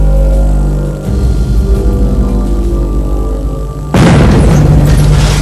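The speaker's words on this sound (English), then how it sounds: "He runs up a flight of stairs and gets into position just before the explosion" A deep, loud dynamite explosion bursts in at once, a broad roar that swells over a low rumbling drone and stays heavy to the end.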